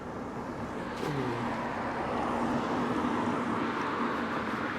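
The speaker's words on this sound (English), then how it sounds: "Car absolutely right behind me." Car driving right behind a cyclist on a road, a steady engine and tire rumble close by that swells slightly and holds, with no talk over it.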